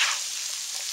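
Sliced onions and mushrooms cook in a pan with a bright, steady sizzle, loud and close, heard alone.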